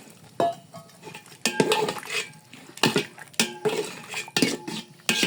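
Meat fries with spices in a pot in a village kitchen, heard as a run of close, loud metallic scrapes and clanks from a spoon stirring against the pot, spaced irregularly with brief quiet gaps and no talk.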